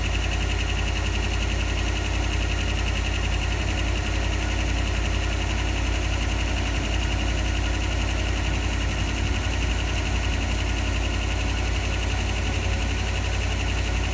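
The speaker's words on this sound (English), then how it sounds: "Usually the lifters clatter a lot worse than that after it's set for a few years." A 1988 Dodge Ram 4x4 pickup that sat unused for several years idles steadily up close, a low rumbling engine with a faint, continuous lifter clatter ticking through it.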